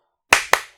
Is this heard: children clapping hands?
yes